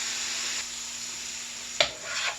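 Potato soup ingredients stir-fried in a pan, a steady hiss of sizzling throughout with a brief scrape of the utensil near the end, no talking.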